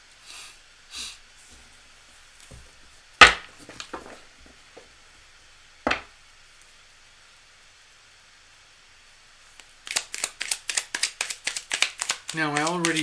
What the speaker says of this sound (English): I already did shuffle the cards a fair bit.